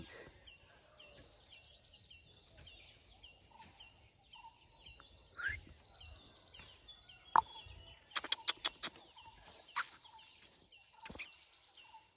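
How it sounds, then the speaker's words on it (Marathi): A sparrow chirps in the morning on a Konkan farm, giving repeated high calls and a quick burst of sharp chirps, fairly close against a quiet background. "हे बघा चिमणी इली सकाळी."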